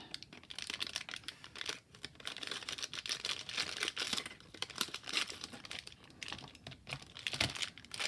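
A plastic bag holding Model Magic modeling clay is handled and opened, producing continuous close crinkling and rustling with small crackles, fairly quiet and with no one talking.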